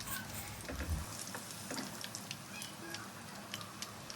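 Chicken pakodi pieces sizzle in hot oil with a soft, crackling fry and scattered pops, faint and steady with a brief clunk near the start.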